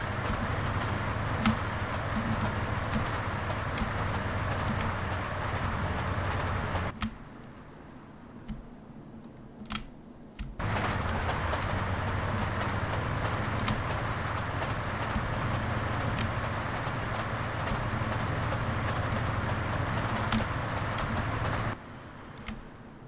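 A freight train rolls on rails in GTA San Andreas, a steady rumbling drone with a rhythmic clack over the rail joints. It drops away briefly near the middle, then returns at full strength.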